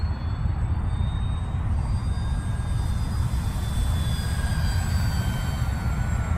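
An E-flite Spitfire Mk XIV 1.2 m RC model plane flies with a steady, dense engine roar and faint high whines, loud and unbroken throughout, with no talk.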